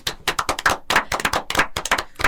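A small support-group audience claps to welcome a member about to share, a dense burst of hand claps with uneven rhythm filling the whole moment.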